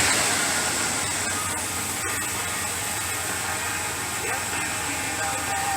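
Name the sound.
wagon engine idling after choke locked off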